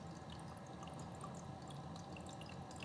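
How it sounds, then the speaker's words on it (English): Water from a budget return pump trickles back into a reef aquarium, a faint, steady splashing with scattered drips, heard close and alone in a quiet room. "but that's just from the trickling of the return."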